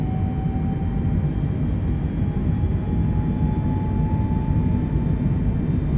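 Airliner engines at takeoff thrust in Microsoft Flight Simulator 2020 make a steady, heavy droning roar with a faint rising whine layered on top, constant and unbroken with no talking.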